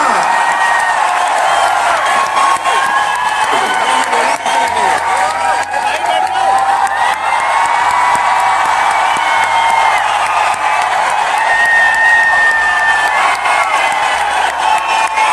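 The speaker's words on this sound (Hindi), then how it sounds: "मैं चाहूंगा एक बार जोरदार तालियां" An award-function audience in a large hall applauds and cheers in a sustained roar of clapping, whoops and crowd noise, loud and continuous over the whole stretch, with amplified voices and a low musical hum underneath.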